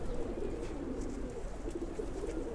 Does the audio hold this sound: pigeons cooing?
yes